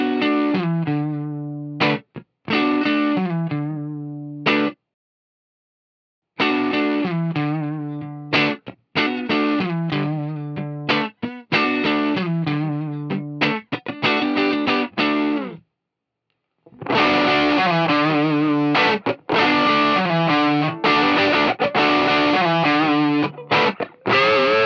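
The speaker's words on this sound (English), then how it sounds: "We'll just have a listen to the clean sound one more time for reference, and then we'll have a listen to the spongy mode." Electric guitar through a Mesa Dual Rectifier amp, first clean and then in spongy mode with added snarl, played as choppy phrases of chords and riffs with short silent gaps and a denser, more driven final section.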